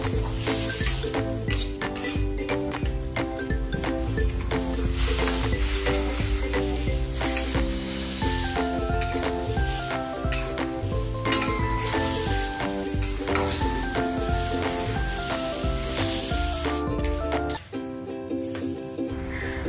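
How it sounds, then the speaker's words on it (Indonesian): Chayote (labu siam) stir-frying in a pan, a steady loud sizzle running throughout with clinks of a spatula or utensil against the metal. "Kita oseng-oseng."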